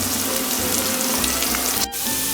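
Tomatoes sizzling in four spoonfuls of hot oil in a cooking pot, a steady close crackling fry running throughout, with a brief clatter near the end.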